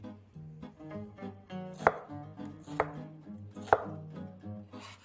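A knife chops vegetables for Italian wedding soup on a cutting board, cutting them into generous pieces sized like carrots and celery. Three crisp, distinct knife strikes land at an even pace beneath soft background music.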